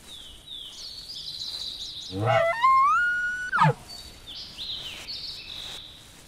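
An elk bugle from the hunting game The Hunter 2013 rises into a loud, drawn-out whistling call with a sharp grunt at its end, heard over a steady bed of chirping bird and insect ambience.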